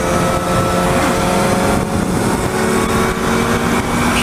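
A faired Yamaha XJ6 motorcycle engine gives a loud, continuous rumbling roar close by, with steady wind and road noise from riding and no talking.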